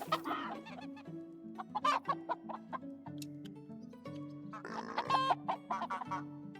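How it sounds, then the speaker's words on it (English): Egg-laying chickens clucking close by in a busy, uneven chorus of short repeated clucks and a few louder squawks, with a faint crow-like call mixed in. "Well, these chickens are some good layers,"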